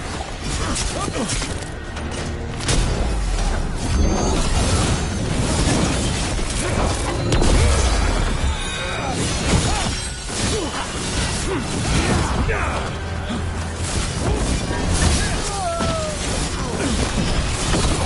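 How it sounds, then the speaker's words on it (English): Mortar fire pounding a video game battlefield: repeated booms, crashes and shattering bursts rolling over a dense, continuous din, with shouted voices mixed into the chaos throughout. "Intruders! Take arms! They've got mortars!"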